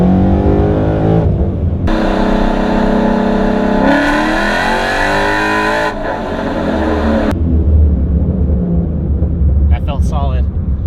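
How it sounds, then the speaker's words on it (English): Ford Mustang engine revving hard through a mid-gear acceleration pull, loud and close, with pitch climbing in successive sweeps and a gear change, then settling to a lower drone as talk briefly comes in at the end. "Let's do a little mid-gear pull right quick."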